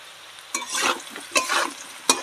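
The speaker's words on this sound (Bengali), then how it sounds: "লবণ হলুদটা দিয়ে আমি আবার সুন্দর করে নেড়ে নেব" Potatoes sizzling in a pan with salt and turmeric, stirred in three distinct scraping strokes over a soft continuous fry, close and without speech.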